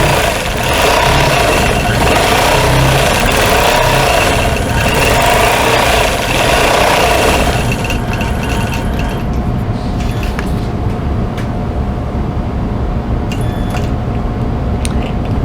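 Sewing machine quilting petals inside a tulip applique on a quilt, a steady mechanical hum that runs loud and dense for the first half, then drops to a quieter, thinner whir.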